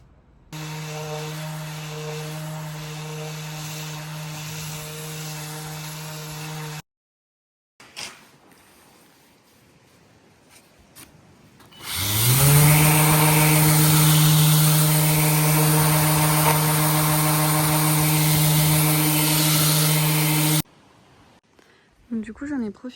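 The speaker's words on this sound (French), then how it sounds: "j'en ai profité pour commencer à poncer mon établi" An electric sander works the wood of a workbench in two long steady stretches of droning whine, close and fairly loud, with a quieter gap between them.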